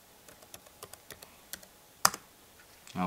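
Computer keyboard being typed on at a login, a dozen or so light, irregular key clicks close by, with one sharper louder strike near the end and quiet background.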